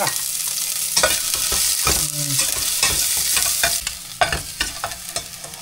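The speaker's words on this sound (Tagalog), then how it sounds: "May mantika na po tayo sa kaserola. Mainit na. Kaya gigisa na po natin." Sautéing in hot oil in a casserole pot before bitter melon goes in: a steady loud sizzle and frying hiss with repeated stirring scrapes and clanks of a utensil against the pot throughout.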